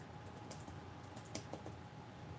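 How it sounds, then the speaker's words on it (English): Typing on a computer keyboard, quiet close keystrokes in irregular bursts of clicks and taps, with no talking. "Sorry for all the typing."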